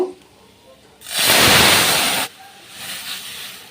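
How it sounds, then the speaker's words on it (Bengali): Boiled dal poured into hot mustard oil tempered with dried red chilli, bay leaf and mustard seeds, for tangy raw-mango dal: a sudden loud hissing sizzle bursts up for about a second, then drops to a quieter bubbling. "এবারে আমি সেদ্ধ ডাল দিয়ে দেব।"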